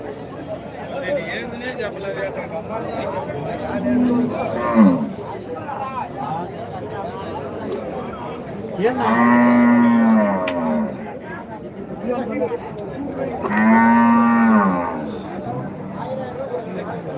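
Cattle at a busy livestock market in Karimangalam, Dharmapuri district, lowing in several long, loud moos spaced a few seconds apart over a constant background of crowd chatter and people talking nearby.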